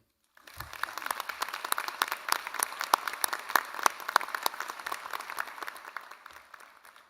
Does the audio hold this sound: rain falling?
no